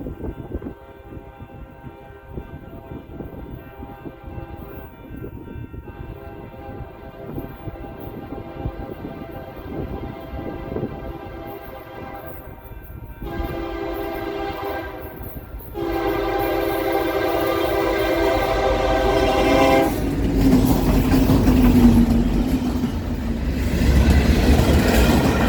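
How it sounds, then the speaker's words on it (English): Union Pacific SD60 standard-cab locomotive 2189 leads a local freight through Oakwood Bottoms, Illinois. Its horn sounds in long repeated blasts over a steady diesel rumble and wheel noise, growing louder and closer as the train rolls past. "UP Local LSH 51 with UP 2189, a rare SD60 standard cab, would roll through Oakwood Bottoms"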